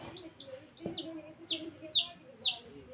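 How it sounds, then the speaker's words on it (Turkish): Baby chicks cheep indoors, giving a series of high, rising chirps that repeat about every half second and grow slightly louder; they are faint over a quiet room background. "Ötmeye başladılar cik cik cik cik."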